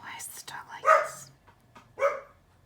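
A dog named Noodles lets out a few short, close barks and yips in scattered bursts, with quiet sounds in the gaps between them.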